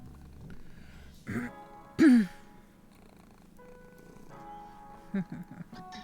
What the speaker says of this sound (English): You purr so pretty.